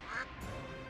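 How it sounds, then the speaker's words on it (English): Ducks quack in a brief, faint burst during a Doctor Who scene, set against a dense wash of background music and effects. "Ducks"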